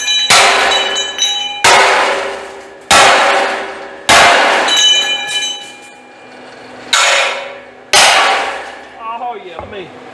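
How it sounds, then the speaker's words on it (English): A big hammer pounds a steel frame piece on a homemade trailer to bend it. Six loud, ringing clangs land about a second apart, each with a long metallic decay, followed by a short rattle. "I'm gonna see if I can whoop on this with a big hammer and get it bent."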